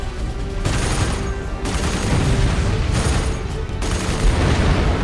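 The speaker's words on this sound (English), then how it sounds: "Deploy countermeasures. Affirmative. Targets cleared hot. Missiles away." Missile strikes and explosions from the UEF campaign of the strategy video game Supreme Commander 2 form a dense, continuous barrage of booms and crackling blasts, loud and steady throughout with no voices.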